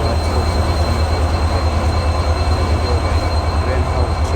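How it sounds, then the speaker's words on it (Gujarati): A diesel locomotive idles loud and close at a station in Rajkot, a deep steady engine rumble with a metallic hum that holds throughout. "આ એન્જિન તો જોઈએ ભાઈ, બહુ અવાજ કરે ડીઝલ"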